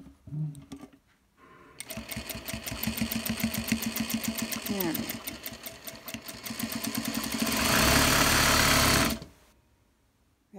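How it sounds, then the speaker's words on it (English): Sewing machine stitching around a fabric pillow slip cover, a fast steady needle rhythm that pauses briefly at a corner, then runs on louder and quicker before stopping; someone talks over the start. "We're going to stop with the needle down, lift up the presser foot at the corner, turn, presser foot down, and keep going."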